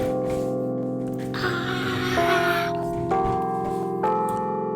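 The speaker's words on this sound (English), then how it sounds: "I do not like bell noises." Church bells ringing at Yale University, several sustained tolls struck one after another in a slow sequence, ringing out over steady background noise.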